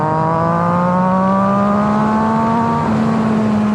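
A 2011 Triumph Daytona 675R with a Werkes exhaust is ridden at speed, its engine holding a loud, steady droning note that slowly climbs in pitch, wrapped in constant wind roar.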